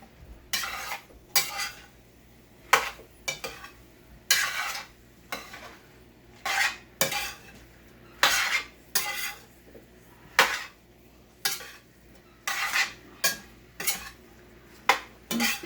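A utensil stirs potatoes and peppers in a domed-lid pan, scraping strokes repeating in a steady uneven rhythm, close and clear with no talk.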